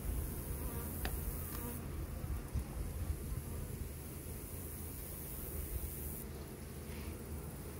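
Nurse bees shaken off brood frames during a hive inspection fill the air with a dense, steady buzzing hum, close and continuous, with a faint higher whine drifting past.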